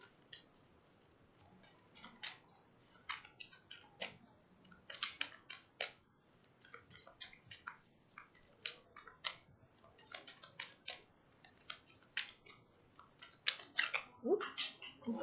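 Tarot cards being drawn and handled during a reading, with soft crisp flicks, snaps and shuffling taps scattered irregularly throughout, close and quiet.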